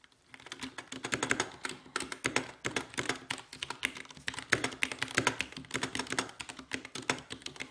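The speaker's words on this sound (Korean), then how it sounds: "기계식 중 소음이 적다고 소문난 체리 적축입니다." Mechanical keyboard with Cherry MX red switches being typed on, a brisk, fairly loud, uneven stream of clacking keystrokes up close with no talking.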